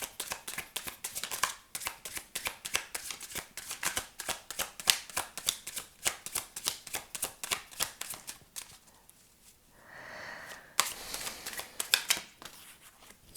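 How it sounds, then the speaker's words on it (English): Cards are riffled and shuffled repeatedly in quick crackling bursts, close by, with a brief softer pause before the shuffling resumes. "Let's put them in and shuffle again."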